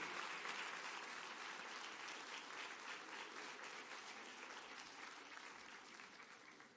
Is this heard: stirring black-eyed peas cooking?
no